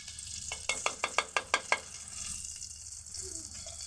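Ghee sizzles in a pan for Bengali chhana sandesh with palm sugar, a steady hiss under a run of seven quick, sharp clinks from a utensil against the pan, then continuous quieter frying.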